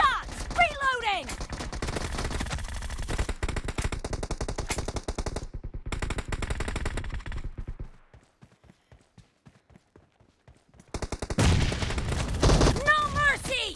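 Automatic weapon fire in the BGMI mobile battle royale game, rapid bursts of close gunshots with a short quiet gap mid-clip before shooting resumes.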